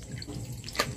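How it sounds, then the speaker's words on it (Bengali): Prawns are swished and washed in a bowl of water, soft close sloshing with a small splash near the end. "চিংড়ি মাছগুলো ভালোভাবে ধুয়ে নেব।"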